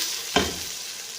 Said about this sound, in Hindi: अब इसमें चिकन ऐड कर देते हैं क्योंकि लहसुन अदरक फ्राई हो चुके हैं।